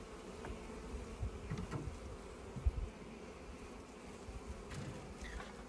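A dense, steady drone of many honeybees buzzing close by at a hive, continuous and unbroken, with no voices.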